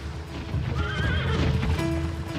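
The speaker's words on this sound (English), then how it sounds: "Imagine these early horses being brought over." A horse whinnies with a wavering neigh while hooves clip-clop beneath it, fairly close and loud, with no talking over it.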